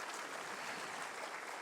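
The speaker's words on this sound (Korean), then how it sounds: "여러분 박수 부탁드리겠습니다" Audience at a national science and ICT day ceremony gives brief, steady applause, a dense wash of clapping heard from a distance.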